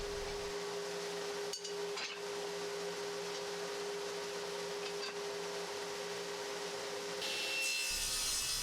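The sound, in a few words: saw cutting wooden boards for coasters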